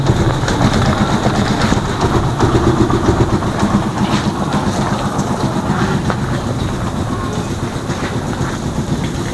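A Rusi Chariot 175 motorcycle, started after a week unused, idles with a loud, steady engine rumble that runs unbroken throughout, close by and with no voices.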